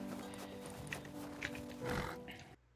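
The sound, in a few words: horse in the video game Rust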